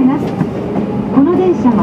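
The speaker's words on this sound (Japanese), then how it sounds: "この電車は各駅停車大谷行きです。" A Seibu 6000 series local train bound for Hoya on the Yurakucho line, its running rumble and motor whine heard from inside the car under an onboard announcement.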